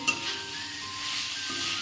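Chunks of yam and potato fry in hot oil in a pan, giving a brief, steady, faint sizzle with one small clink at the start.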